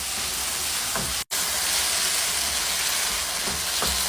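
A tomato paste mixture with Maggi vegetable cubes sizzles steadily while being stir-fried, as the base of a red sauce for shrimp pasta. The hiss is close and continuous, with one brief dropout partway through.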